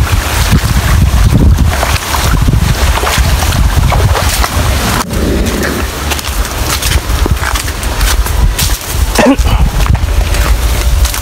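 Heavy wind noise roars and gusts against the microphone for the whole stretch, loud and continuous, with faint voices buried underneath.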